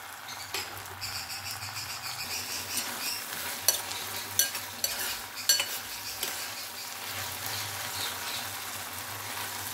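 Prawns frying lightly in a pan for an Andhra-style spicy gongura prawn curry, a continuous soft sizzle with intermittent scrapes and clinks of a spatula stirring against the pan.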